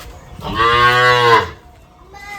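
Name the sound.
bull mooing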